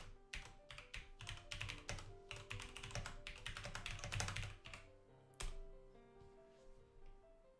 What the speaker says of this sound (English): I gotta type one in here.